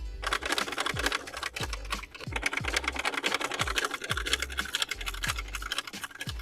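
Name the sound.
sewing machine stitching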